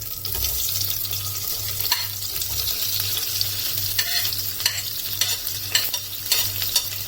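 Onions sauté in hot oil for mushroom biryani, a continuous close sizzle broken by repeated scraping strokes of a spoon stirring the pan, with no talking.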